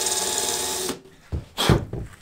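A power screwdriver backs screws out of the plywood floor boards in a Ford Transit van, giving a steady, close whirring run of about a second, followed by a few short thumps and clatters.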